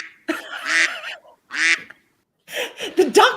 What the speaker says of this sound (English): The duck's gone rogue